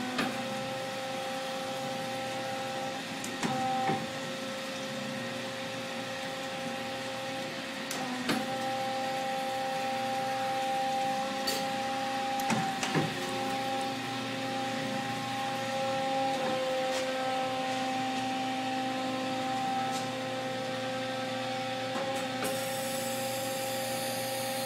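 Hyd-Mech H-12 horizontal automatic saw with its clamps moving in and out, a steady machine hum and whine running throughout with occasional brief clunks, no talking.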